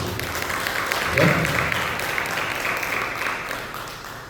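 A church congregation claps and applauds during a Sunday worship service, a broad, steady wash of clapping that swells briefly and carries on for several seconds, with a short spoken word near the start.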